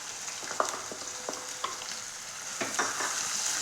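Chopped onions hit a hot pan of prawns for a Kerala prawn and bean mezhukkupuratti, giving a continuous close sizzle with scattered spoon-scraping clinks and stirring taps.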